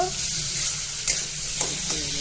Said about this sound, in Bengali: আর একটুক্ষণ ভালো করে ভাজা ভাজা করে নেব